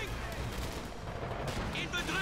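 MG34 machine guns fire in the real-time strategy game Company of Heroes 2, rapid bursts and rattling gunfire mixed with battle noise, continuous and dense, with game sounds layered throughout.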